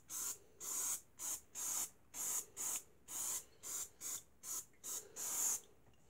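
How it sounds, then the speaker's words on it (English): Tire shine sprayed onto a car tire in about a dozen short, crisp hissing bursts from a trigger sprayer, close and evenly paced with brief pauses between. "spray it down, give it a nice little shake up"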